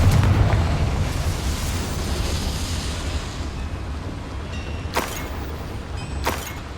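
A Confringo blasting spell in Hogwarts Legacy erupts with a long rumbling boom that slowly fades, followed later by two sharp, crisp bursts against a steady low background.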